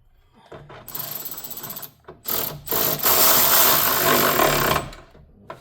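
Bolts being tightened with a ratchet during installation of a radiator in a 2004 Toyota Tacoma 3.4, several bursts of rapid clicking ratchet strokes up close, separated by short pauses.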